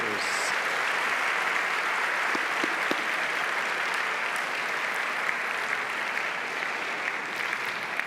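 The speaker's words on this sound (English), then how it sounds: "a round of applause for all of our speakers" Sustained audience applause at a Yom Kippur symposium, a dense steady clatter of many hands clapping throughout, fairly loud and even, with no talk over it.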